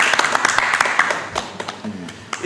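Hands clap rapidly and steadily in a small crowd, a dense run of sharp close slaps under a constant noisy wash, with faint speech mixed in.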